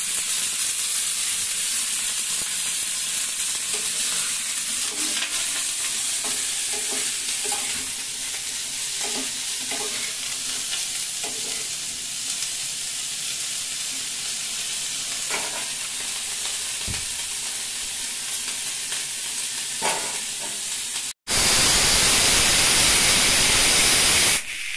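Cauliflower sizzling and frying in hot oil with occasional stirring, a steady loud crackle and hiss that continues for a long stretch, with a brief louder burst near the end.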